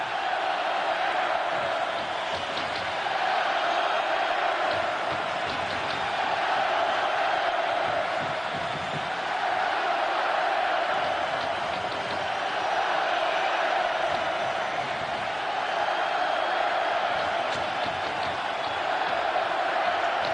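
A big arena hockey crowd of Buffalo Sabres fans in a playoff game keeps up a rhythmic, roaring chant, steady and distant-sounding, with constant crowd noise underneath and a commentator's voice at times.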